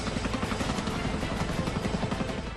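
Chinook military helicopter at an airstrip used for flood rescue airlifts, giving a steady, loud rotor and turbine roar with a faint rhythmic rotor pulse throughout, no voices.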